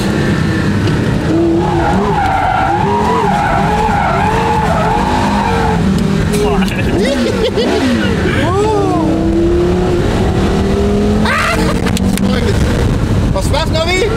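A Porsche Carrera GT sweeps through a long curve, its engine note rising and falling through the bend with tyre noise, heard from inside the cabin while people talk over it.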